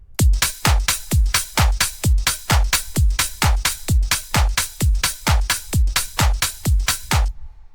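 A custom drum loop in FL Studio, stretched to the project tempo, plays alone: evenly spaced heavy kick-like hits in a steady driving rhythm, with sharp attacks and brief gaps between beats.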